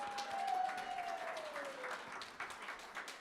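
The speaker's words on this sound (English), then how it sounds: "Would you give all of those people a big round of applause?" Audience at an art auction applauds, a soft, fairly distant patter of clapping that gradually thins out.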